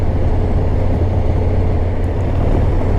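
Harley-Davidson Heritage Softail Classic 114 pulling in sixth gear, a continuous deep engine rumble mixed with wind and road noise, loud and steady throughout, no speech.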